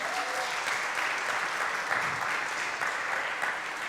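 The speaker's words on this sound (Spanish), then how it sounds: "Un aplauso para nuestros niños" Warm applause from a church congregation for the children, a steady, fairly loud clapping that fills the short stretch without anyone speaking over it.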